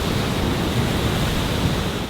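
Steady rushing surf splashing against a jetty close by on the Namibian coast, with wind noise buffeting the microphone throughout and no voices.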